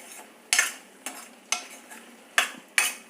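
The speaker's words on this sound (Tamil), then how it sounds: "இப்போ இது நல்லா இதில் வதங்கட்டும்" Brinjal with onion, tomato and tamarind sautéing in a pan, a soft sizzle broken by about six sharp scraping strokes of a spoon stirring, close with no talk.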